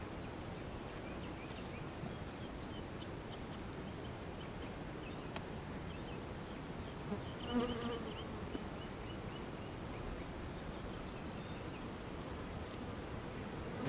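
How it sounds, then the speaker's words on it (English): Honey bees buzz around a beehive super full of curing honey frames, a faint steady drone of many insects close by with the occasional louder pass. "there's still quite a few bees up here"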